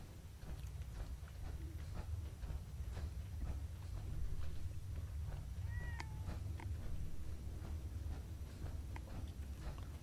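A cat in the Fallout 4 video game gives a short, faint meow over a steady low background hum.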